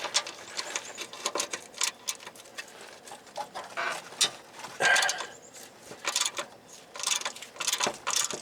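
A ratchet wrench works the steering rack hold-down bolts on a 2012 Subaru Outback 2.5L, giving bursts of sharp metallic clicking and clattering with short pauses between strokes, close up and fairly quiet.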